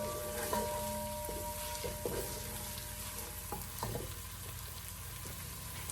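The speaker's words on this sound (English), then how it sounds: "Now it's sizzling." Onion sizzling as it fries in a pan for a vegetarian bolognese sauce, a continuous crackling hiss at moderate level with occasional spoon stirring taps.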